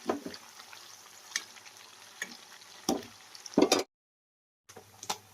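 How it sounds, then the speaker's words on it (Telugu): Pieces of korameenu (murrel) fish frying in a pan, a soft sizzle broken by sharp knocks and scrapes of stirring, a brief silent gap, then the faint sizzle returns. "ఇంకా మనకి చేప ముక్కలు అయితే ఫ్రై అవుతా ఉన్నాయి కదా"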